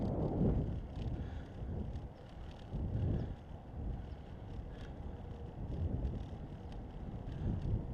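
Steady wind rushing across the microphone during a bicycle ride through Stockton on a cool, breezy day, a loud, continuous low roar that swells and eases slightly, with no talking.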